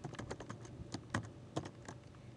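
Quiet, fast typing on a computer keyboard: a rapid irregular run of light key clicks with a few heavier taps, close and alone with no talk.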